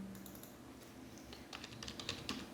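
Quiet typing on a computer keyboard: a faint, quick patter of keystrokes over low background hiss.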